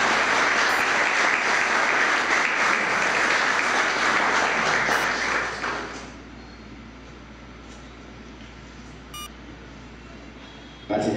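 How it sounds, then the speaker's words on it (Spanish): Audience at a school ceremony applauding loudly for about five seconds, then the clapping fades to a quiet murmur with a few faint beeps. "un aplauso fuerte"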